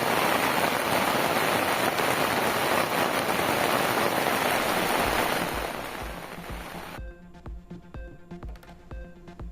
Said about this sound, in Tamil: தமிழகத்தில் தஞ்சை, நாகை உள்ளிட்ட பல்வேறு மாவட்டங்களில் பரவலாக மழை.